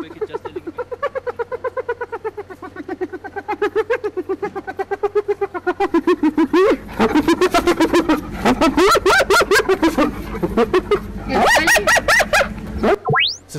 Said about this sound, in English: It's actually hyena.